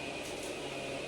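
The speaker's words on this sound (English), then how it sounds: "She's running the vacuum." Steady droning hum of a vacuum cleaner running in a house during cleaning, distant and constant, heard alone without talk.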